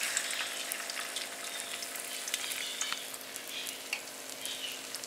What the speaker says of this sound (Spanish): tiene que estar bien caliente el aceite para poner